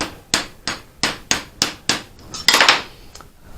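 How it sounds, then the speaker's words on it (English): Hammer striking a copper vase, about eight sharp ringing metallic blows in a steady rhythm, close and loud, with a brief clatter near the end. "a hammering process."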